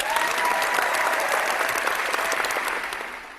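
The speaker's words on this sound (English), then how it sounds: "I'm going to give it applause." A burst of applause, steady clapping from a crowd, plays alone at a strong level for a few seconds before fading out at the end.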